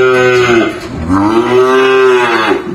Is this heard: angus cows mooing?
yes